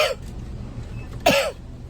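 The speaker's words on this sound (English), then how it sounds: "Stop coughing on my stuff." A person coughs twice, with a short, faint cough at the start and a sharper, louder cough about a second later, each heard up close against quiet room noise.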